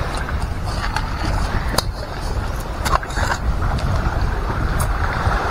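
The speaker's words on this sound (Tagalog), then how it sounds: "malakas yung hangin" Steady, roaring wind noise near the sea buffets the microphone throughout, with a low rumble and occasional gusty bursts, loud and continuous.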